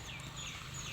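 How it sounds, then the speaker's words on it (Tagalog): Soft quacking from a few ducks, faint and distant against low background noise, lasting about a second. "itik."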